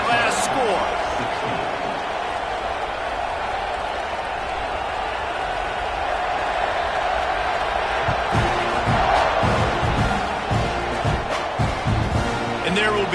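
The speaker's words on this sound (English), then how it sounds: "this crowd is buzzing after that last score" A packed football stadium crowd at an Alabama versus Texas game, a dense, continuous roar and murmur with scattered shouts, an announcer talking over it throughout.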